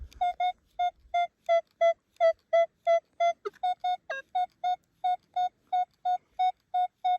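A metal detector beeps while someone digs for coins at a field site, giving a fast, regular run of loud, clear electronic tones that shift pitch slightly partway through, with no voices.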